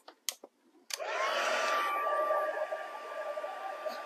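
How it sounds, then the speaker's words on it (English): An embossing heat tool melting powder on a stamped card clicks a few times, then switches on into a steady close whir with a thin whistling whine that carries through to the end. "I need to heat up my heat tool"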